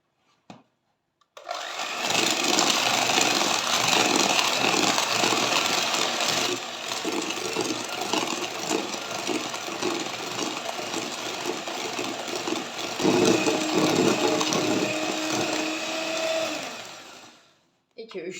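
An electric mixer whirs loudly and steadily for about fifteen seconds, whisking sugar and eggs for a cake batter, starting abruptly and cutting off near the end.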